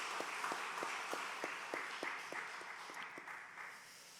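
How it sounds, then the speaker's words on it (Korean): Rhythmic, evenly spaced clapping from a church congregation during a Sunday morning service, faint and fairly distant, fading slightly as it goes on. "감사 박수 한번 더"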